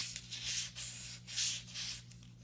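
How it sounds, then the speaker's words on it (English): A rifle stock is sanded by hand with 600 grit sandpaper in soft, uneven rubbing strokes, close and fairly quiet over a low steady hum. "just very carefully, a little bit at a time, sand these and then fit it to the receiver"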